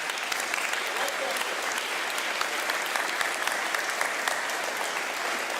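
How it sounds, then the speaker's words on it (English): Sustained applause from a standing audience at an outdoor Veterans Day ceremony in Fishers, Indiana, steady and dense for several seconds with no pause. "we want to give you a round of applause for making this happen"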